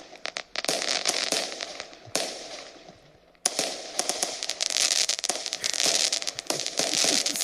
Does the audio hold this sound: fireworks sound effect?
yes